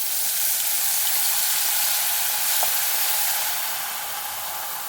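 Onion paste frying in a pan for fish curry gives a steady, even hiss of sizzling oil that fades slightly toward the end, with no voices.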